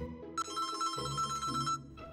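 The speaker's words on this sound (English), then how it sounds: "It's ringing in the bag." A phone rings inside a bag, a short electronic ringtone with a bright trill lasting about a second and a half, somewhat muffled against low background music.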